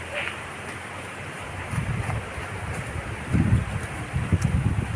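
Wind moves steadily across a backyard on a windy afternoon, a constant airy rush with low rumbling gusts that swell in the second half.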